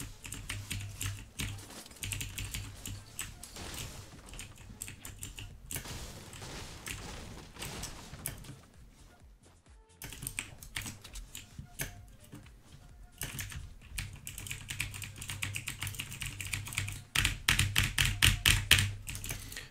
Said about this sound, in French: Ah, détruis encore plus ton clavier.